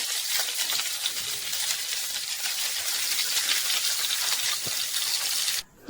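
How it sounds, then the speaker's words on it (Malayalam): Chicken shallow-fries in oil in a pan for Kandhari chicken rice, giving a steady, close crackling sizzle that runs unbroken until a brief dip at the very end. "ഇതുപോലെ തന്നെ ഒരു ചിക്കനും കൂടി നമുക്ക് ബാക്കിയുള്ളത് വറുത്തെടുക്കാം."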